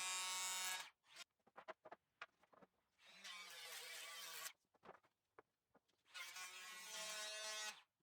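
Hand plane shaving the front faces of small wooden kumiko pieces, heard as close, loud bursts of rasping, whirring friction in three long strokes separated by quieter clicks and taps.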